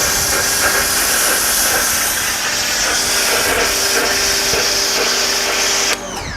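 A cheap Mckillans foam cannon fitted with a 1.1 mm orifice sprays car-wash foam in a loud, steady hiss that holds constant before cutting off abruptly near the end.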